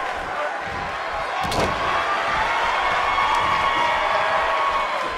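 A wrestling event crowd roars steadily throughout, loud and dense cheering with a sharp slam-like impact breaking through early on, the noise swelling slightly after it.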